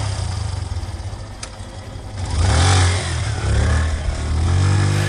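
A motorcycle engine rumbles and revs on a dark village night road, a steady low growl that swells louder midway and stays close, with no talk over it.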